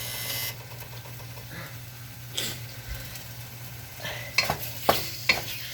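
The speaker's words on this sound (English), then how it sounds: "I'm gonna fry the chicken thigh. Okay, in the wok." Chicken thigh fries in a wok over raised heat for a spicy chicken dish, a steady low sizzle with scattered scraping stirs and sharper clatters toward the end, close by with no talking.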